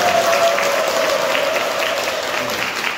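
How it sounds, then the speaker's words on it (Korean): Audience applause at an autumn concert in a Catholic church, a steady dense wash of clapping held at an even loudness for the whole stretch, with a faint sustained tone running underneath. "박수로 주시고요."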